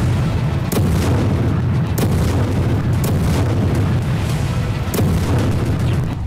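Russian artillery and GRAD MLRS rocket strikes hit Ukraine, with several loud, heavy booms spaced a second or two apart over a constant deep rumble.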